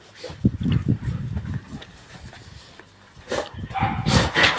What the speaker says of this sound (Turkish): dolu olan kutuya Maki tepki verecek, havlayarak e, tepki verecek